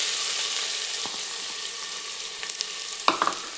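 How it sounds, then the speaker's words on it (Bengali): Chopped onion frying in oil in a pan, a continuous bright sizzle with a few sharp utensil clicks and taps toward the end. "পেঁয়াজটাকে আমি একটুখানি ভালো করে ফ্রাই করবো।"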